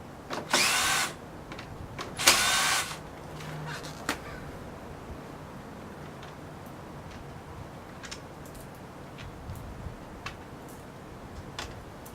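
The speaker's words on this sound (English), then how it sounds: "For us, we'll go ahead and remove them with the drill gun" A power drill runs in two short bursts, backing screws out of a Pentair swing check valve, followed by quieter ticks and small clicks of handling.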